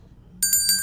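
Quiz show bell at a primary school contest rings out bright and sustained with a metallic shimmer, sounding alone after near silence.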